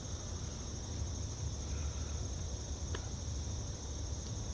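Insects drone and chirr steadily outdoors on a wet, hilly disc golf course in the woods, a dense continuous hum with a high whine layered over a low rumble, fairly faint with no voices.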